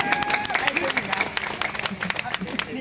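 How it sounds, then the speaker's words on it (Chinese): Audience at a street-side marriage proposal on a pedestrian promenade in Taichung claps and cheers in a lively burst, with crowd chatter and voices mixed through the applause. "掌声鼓励。"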